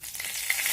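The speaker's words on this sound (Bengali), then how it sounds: "পেঁয়াজটাকে কিছুক্ষণ আমি নাড়াচাড়া করে ভেজে নেব।" Chopped onions frying in mustard oil make a brief, close, continuous sizzle with no voices present.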